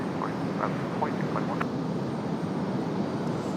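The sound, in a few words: Delta airliner taking off from runway 23 right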